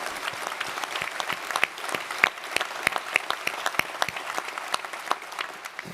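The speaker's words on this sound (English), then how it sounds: "please clap, please." Audience applause at a new lawyers induction ceremony, moderate and steady with sharp individual claps standing out over a diffuse, fairly distant wash for about six seconds.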